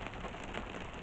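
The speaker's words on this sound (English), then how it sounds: "This probably be my last one that you may hear this rain." Steady rain patters on a surface in a dense, even hiss, continuous and moderately quiet with no voices.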